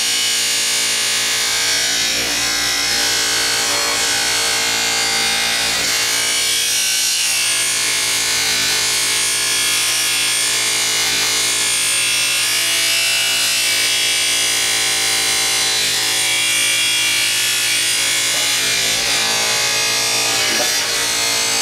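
Buffing wheel polishing a tobacco pipe, a continuous motor whine with a rough rubbing hiss as the pipe is pressed to the spinning wheel, loud and close, swelling and easing slightly over about twenty seconds.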